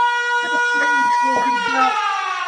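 A sustained, loud siren blares steadily through a baseball stadium after a home run, with a person speaking excitedly over it.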